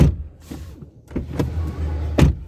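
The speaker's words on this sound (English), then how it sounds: "So let's close the door." A frameless door on a 2023 BMW 218i Gran Coupe M Sport is shut from inside the car with one solid, close thud, followed by faint cabin rustling.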